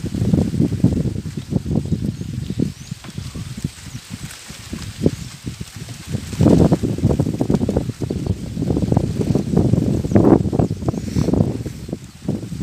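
Wind blows steadily across a rooftop, a continuous, fairly loud low rumbling roar that swells and eases in gusts throughout, with faint rustling on top.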